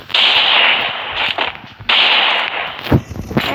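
A Desert Eagle pistol in a mobile shooter game fires single loud, sharp shots spaced apart, each followed by a brief decaying tail. Two closer-spaced cracks come near the end.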